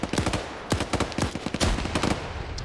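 Rapid automatic gunfire and sharp single shots crackle in a video game battle around a bunker, with bursts and double taps layered close and loud over about three seconds, no voices.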